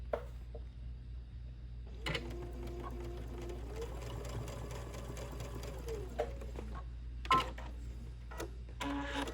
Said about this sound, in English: I just want to stitch across it to anchor it on there